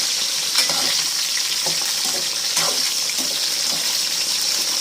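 Brinjal fries in plenty of oil, giving a steady, dense sizzle with a few soft stirring knocks scattered through, close and constant.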